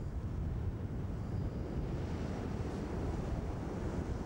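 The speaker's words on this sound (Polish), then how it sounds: "zimny ocean." Ocean waves wash onto the beach at Alexander Bay as a steady, loud broadband roar of surf, mixed with wind buffeting the microphone and no voices.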